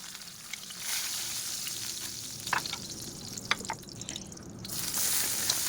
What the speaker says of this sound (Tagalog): nagisa lang po ako dito ng onion